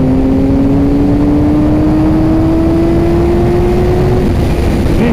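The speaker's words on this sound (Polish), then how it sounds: "Piątka, odkręcamy i ten motocykl się zbiera." A BMW S1000RR sport motorcycle accelerates hard, its engine note rising steadily in pitch through a gear as a loud, close, continuous whine over heavy wind rush, with a brief dip near the end.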